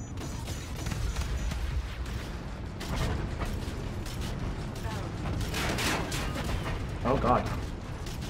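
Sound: spaceship cannons firing in video game Call of Duty: Infinite Warfare

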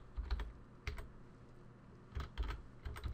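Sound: typing on a computer keyboard

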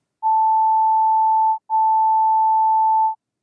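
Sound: two sine tones at 880 and 885 Hz

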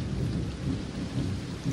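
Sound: heavy rain falling

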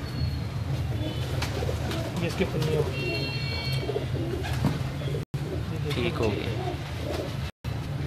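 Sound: pigeons cooing

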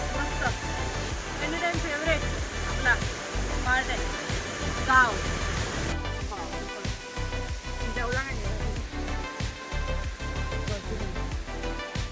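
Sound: flowing water of a stream

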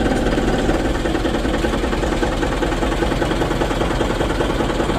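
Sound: bus engine idling, Po Langgeng bus

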